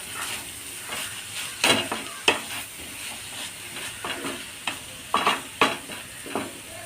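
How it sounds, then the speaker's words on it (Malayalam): Cabbage stir-fry sizzles steadily in a pan while a utensil stirs it, giving a series of irregular sharp scrapes and clacks over the constant frying hiss, close and fairly loud, with no voices. "നന്നായിട്ട് ഒന്നുകൂടി ഒന്ന് ഇളക്കി കൊടുക്കാട്ടോ കേട്ടോ വെന്തിട്ടില്ല"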